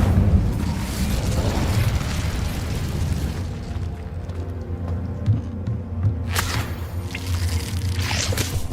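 The Incendio fire spell is cast in Hogwarts Legacy: a sustained roaring, rumbling blast of flame that keeps going, with brighter crackling flares partway through.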